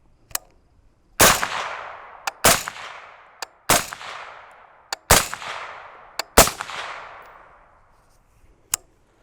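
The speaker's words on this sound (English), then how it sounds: "So, what does this thing sound like when we shoot it?" A prototype 5.56mm rifle fitted with a silencer fires outdoors in sharp, close, muffled reports, about five strong shots spaced around a second apart with a few softer clicks between, each trailing a brief decaying echo.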